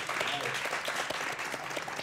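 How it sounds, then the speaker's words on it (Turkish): Studio audience applauding guests on a Turkish late-night talk show, a steady dense wash of clapping that carries through the whole stretch with some speech faintly mixed in. "Alkışlıyoruz kendilerini."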